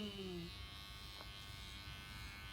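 An electric shaver runs with a steady, close, low buzz, pulled from a backpack during a California coast bike ride. Faint background sound sits under the hum.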